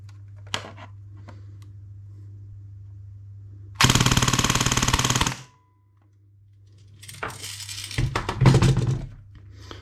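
Airsoft gun fitted with a T238 brushless motor fires a loud, rapid full-auto burst of about a second and a half, followed by a second, ragged burst of shots and clatter a couple of seconds later.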